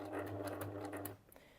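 A sewing machine stitches faux leather for a glasses pouch in a quick run of rapid needle strokes over a steady motor hum, then stops abruptly, leaving a few faint clicks.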